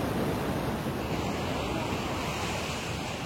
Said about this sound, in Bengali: শুধু ঢেউটা দেখো